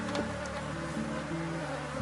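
Honey bees buzzing around a closed hive, a dense, continuous droning hum of many insects close by with shifting pitches and no speech.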